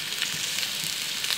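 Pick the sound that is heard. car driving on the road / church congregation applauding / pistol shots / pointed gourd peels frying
pointed gourd peels frying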